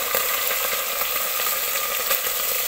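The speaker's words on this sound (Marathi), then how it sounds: "मटणाची फोडणी द्यायला चालू आहे." Mutton tempering fries in a hot pan with a constant hissing sizzle, broken by occasional faint stirring clicks.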